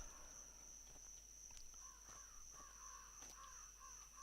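Crows caw in a night-time park in the horror game Lust for Darkness, several faint, hoarse calls repeating at a slow, steady rhythm over a constant high electronic whine and low hum.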